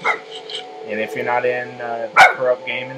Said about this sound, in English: Anyway, guys, sorry for the dog.